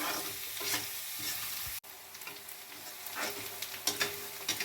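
Onions sautéing in a pan for a drumstick and brinjal curry, a soft steady sizzle with occasional stirring scrapes, briefly cut off then resuming, no talking.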